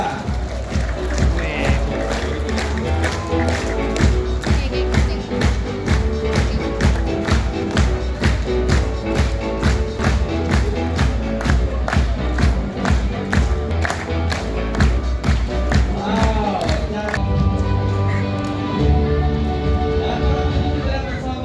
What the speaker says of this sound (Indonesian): Ayo kita berikan tepuk tangannya. Berirama.